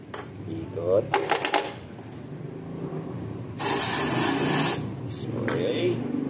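Cleaner sprayed onto a bike chain and sprocket: sharp hissing bursts from a spray nozzle repeated in short pulses, with the chain clicking as it is turned between sprays, and a person talking over it.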